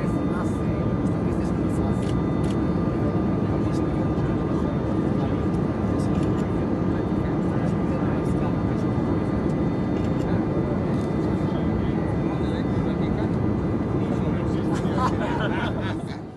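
Steady broadband roar of a papal plane's aircraft engines heard from inside the cabin, continuous and loud throughout with faint voices underneath.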